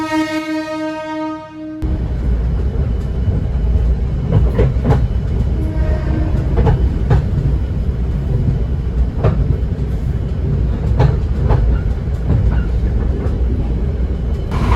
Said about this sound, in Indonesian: Sesaat lagi untuk kereta api Malioboro Express akan diberangkatkan dari stasiun